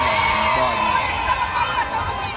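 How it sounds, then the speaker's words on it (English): A crowd in Trenchtown, Jamaica cheers and whoops to greet a visiting royal couple, a steady wash of voices with a reporter talking over it. "this crowd greeting them with cheers"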